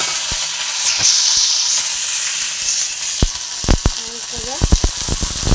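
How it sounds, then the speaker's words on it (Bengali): Okra fries in a pan with a loud, constant close sizzle, joined later by sharp clinks and scrapes of stirring. "একটুখানি ঢেঁড়স ভাজা করি"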